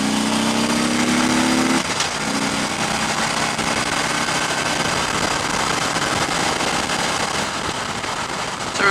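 A 2015 Harley-Davidson Electra Glide Ultra Limited engine hums steadily at low revs while cruising in sixth gear at about 60 mph, with constant wind and road roar throughout and no talking.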